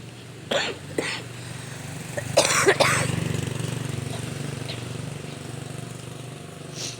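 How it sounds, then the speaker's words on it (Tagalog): A few short coughs come in bursts, first two separate ones and then a louder double cough, over a constant low engine-like hum. "Pasensya na po kayo sa ubo ko."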